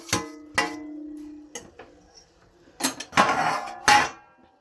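Roasted semolina tipped into a pan of dry fruit while making Gujarati ginger pak (aadu pak), with a few sharp clinks and scrapes of a utensil against the pan, separated by quiet pauses.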